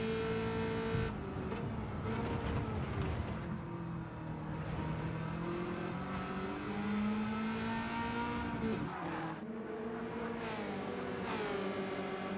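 Race car engines in a racing video game roar continuously as they rev and shift, rising and falling in pitch across several gear changes, loud and close with no talking.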